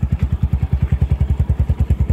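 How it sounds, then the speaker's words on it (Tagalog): Honda TMX125 Alpha motorcycle with a 210cc conversion and head work idles close by, a loud, even, chugging thump-thump pulse with no talk over it. "Ito na yung motor ni Kuya from Kalasyaw"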